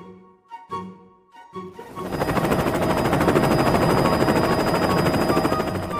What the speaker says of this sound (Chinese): 直升机哥哥来帮忙了。